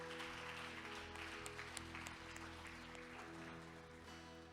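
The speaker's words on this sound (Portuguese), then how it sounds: "Dá uma forte salva de palmas ao Senhor" Sustained applause from a church congregation at a morning service, steady clapping that fades slightly toward the end, heard at a moderate distance.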